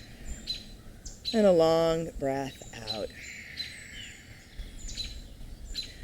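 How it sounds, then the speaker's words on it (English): Morning birds chirp and tweet outdoors, with a loud clear burst of song near the middle and scattered calls throughout, under a calm voice speaking softly over the background. "I think the birds might be unhappy with me. I might have disrupted their morning routine. They're pretty noisy."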